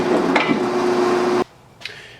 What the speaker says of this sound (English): it's drilling through this as fast as I want to feed it